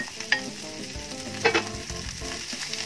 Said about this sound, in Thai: ผัดให้เข้ากันเลยค่ะ